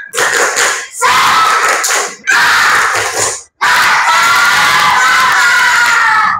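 Schoolchildren in a classroom perform the tepuk semangat clap chant, four loud shouted bursts of voices and claps separated by brief silences, the last burst longest.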